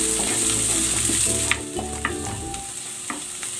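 Garlic and onion sizzle loudly in a hot pan for a beef and vegetable stir fry, a constant close frying hiss with a few sharp utensil taps and clinks.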